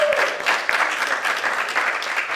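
A conference audience applauds steadily at a Bitcoin payments event, a dense, even wash of many hands clapping close and loud for the full stretch with no pause.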